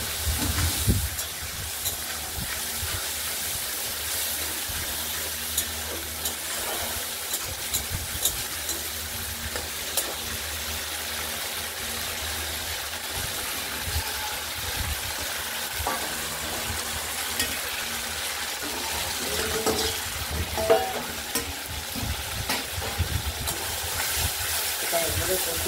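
Pointed gourd dolma filling fries in a pan with a continuous hissing sizzle and scraping stirs, close and steady throughout.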